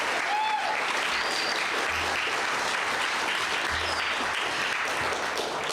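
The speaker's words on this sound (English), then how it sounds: "let's give one more round of applause for our actors." Church audience at an improvisational service giving the actors a full round of applause, dense continuous clapping that holds steady and loud throughout.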